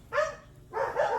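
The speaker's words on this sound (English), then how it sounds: "You'll have to excuse my dogs in the background." Two quick barks from a dog a short distance away, with a brief gap between them.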